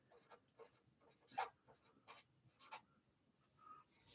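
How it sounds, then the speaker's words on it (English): Handwriting words with a pen on paper, quiet scratchy strokes in short irregular bursts with small pauses, close and faint, no talking. "Let's just write the words down"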